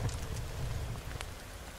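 Steady rain patters in a forest survival video game, a soft continuous hiss of drops with faint low rumble underneath and no voices.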